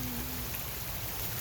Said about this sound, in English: So I'm going to be walking in the rain.